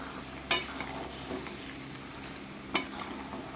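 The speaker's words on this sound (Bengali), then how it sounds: "চিকেনগুলো অবশ্যই নেড়ে চেড়ে কষাবো কোনোভাবেই যেন কড়াইয়ের তলায় লেগে না যায়" Large chicken pieces stir-frying in a karahi for biryani, a quiet steady sizzle under two sharp spoon scrapes against the pan and a few lighter clinks, no talk.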